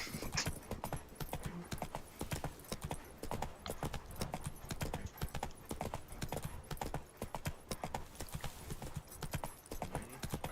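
Horse galloping in The Witcher 3 video game, a rapid, rhythmic drumming of hoofbeats that runs without pause, close and steady, with occasional faint voices from the game.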